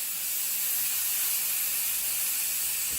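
Steady, loud hiss of steam venting from a stovetop pressure cooker taken off the burner, continuous and unbroken throughout with no talking.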